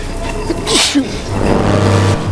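A single sharp sneeze bursts out near the start, close and fairly loud, over a low steady rumble of background noise.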